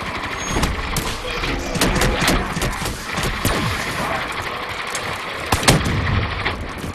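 Rapid gunfire from Black Ops 3 Zombies on the Shadows of Evil map, sharp cracking bursts repeating irregularly over a rumbling mechanical din, loud and close, with one heavy blast near the end.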